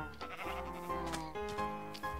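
Sheep bleat in the Minecraft video game, with a few short, wavering baas over steady background game music.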